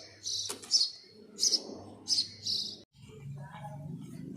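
A sparrow chirps close by in a rooftop loft, giving four sharp, high, evenly spaced calls with short gaps between them. A low background murmur sits underneath.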